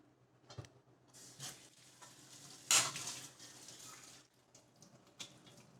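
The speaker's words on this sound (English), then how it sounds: "let's wash some dishes first" Dishes being washed in a kitchen sink with water splashing and clinking, faint and intermittent, with one brief loud splash or clatter midway.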